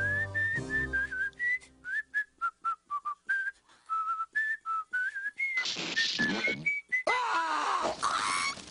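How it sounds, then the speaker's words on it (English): A cartoon villain whistles a bouncy tune in short, evenly spaced notes, clear and close, before the whistle breaks into harsh bursts of noise near the end. "And no whistling."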